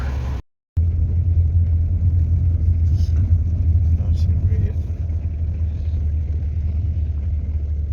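A car drives along a road in winter, a steady low rumble of engine and tyres heard from inside the cabin, with a brief dropout near the start, and a person talks over it.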